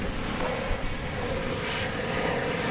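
An American Eagle airliner arriving from Austin, Texas at DFW Airport gives a steady, broad engine roar that stays even and fairly loud, with no voices over it.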